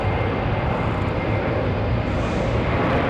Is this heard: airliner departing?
yes